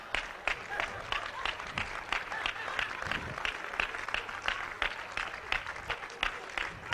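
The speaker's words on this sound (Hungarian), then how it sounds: "Úgyhogy tapsoljuk meg, miközben kifárad ide." Audience at a Hungarian seminar event applauding as a volunteer comes up to the stage, steady dense clapping from a sizable crowd filling the room for several seconds, with a few sharper individual claps standing out.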